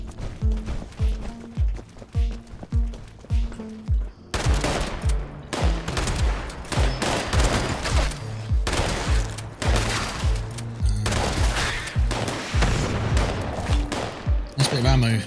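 Rapid gunfire in Fallout 76 comes in bursts of sharp, evenly spaced shots, then grows denser and louder into sustained volleys, with faint talk in the background.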